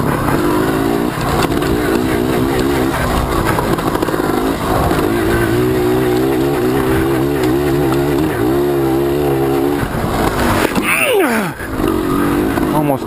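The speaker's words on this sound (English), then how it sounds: "Sounds exactly like the choke is stuck on. It's running way too rich." An enduro motorbike engine with its choke stuck on runs rough and rich during a race, a loud, close, uneven drone that wavers in pitch without properly revving up.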